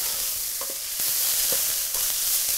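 Spices toasting in a pan for shakshuka, a steady soft sizzle with a few scraping stirs and light clinks of a utensil against the pan, close and moderately quiet.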